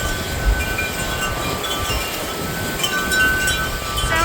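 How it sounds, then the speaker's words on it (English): Strong storm wind roars around a sheep barn during lambing season in a continuous, heavy, train-like rush with no pauses, loud and close. "Sounds like a train, the wind is so bad."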